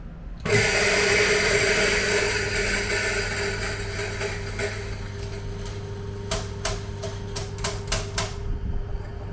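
An espresso machine extracts coffee with a sudden start and then a loud, steady pump drone, with a run of quick clicking taps near the end, close and without talking.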